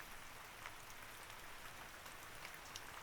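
Steady rain patters softly and evenly, a faint continuous hiss of drops with no voices.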